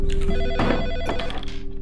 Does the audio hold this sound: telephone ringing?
yes